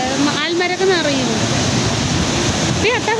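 Rushing floodwater after heavy rain roars loudly and continuously close by, submerging steps, while voices call out over the steady torrent.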